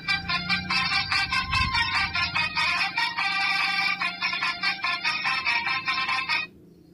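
A cheap fidget spinner phone plays its bright electronic ringtone, a pulsing, repeating melody, loud and close, that runs for several seconds and then cuts off abruptly.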